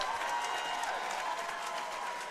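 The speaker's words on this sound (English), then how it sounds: "please put a big round of applause together for both of the ladies in this cage" A crowd at an amateur women's MMA cage fight applauds both fighters, a steady, somewhat distant wash of clapping and crowd noise with a faint tone underneath.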